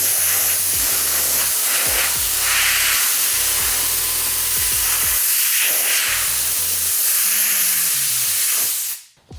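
Compressed air blasts rinse water off car headlights as a loud, continuous hissing rush that holds steady for several seconds, then cuts off abruptly near the end.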